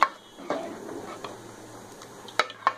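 A spoon stirs dal makhani in a pot, giving soft scraping with a few sharp clinks against the metal at irregular intervals, close and fairly quiet.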